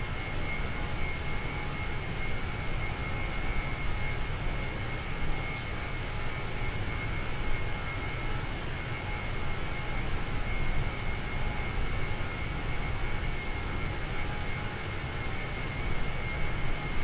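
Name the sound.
small airplane engine in flight, climbing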